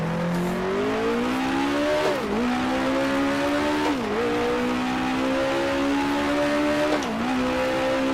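Race car engine in Grand Prix Legends, 1966 Lady Wigram Trophy Tasman Series: a loud, continuous high rev drones, dipping sharply three times as gears are downshifted before climbing again.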